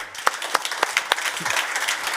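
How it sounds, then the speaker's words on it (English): A crowd applauding, with dense steady clapping and a few sharper individual claps standing out near the start. "let's give a round of applause"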